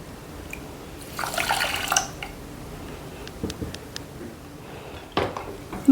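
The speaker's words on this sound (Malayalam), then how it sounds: "അതിലോട്ട് ഒരു കപ്പ് വെള്ളം ഒഴിക്കുക" A cup of water pours into sugar in a pan to make syrup for gulab jamun, a brief splashing rush near the start followed by quieter drips and a few utensil clinks.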